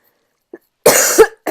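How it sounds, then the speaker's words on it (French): A woman's single sharp cough, close and loud, after a brief faint sound and a short silence, ending with the start of another burst. "Attention, je vais tousser"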